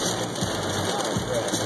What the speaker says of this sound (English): It's like rain. It's heavy rain.